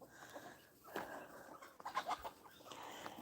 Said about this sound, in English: I have searched high and low to find out what kind of rooster.